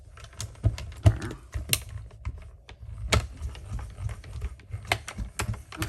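Cardstock fed through a die-cutting machine while making a birthday card, giving close, irregular clicks and clunks over a few seconds with no talking.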